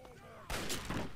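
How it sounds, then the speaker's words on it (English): Assault rifle gunfire in Fallout 3 erupts suddenly as a loud, dense burst of shots after a quieter stretch, with game sounds underneath. "Assault rifle!"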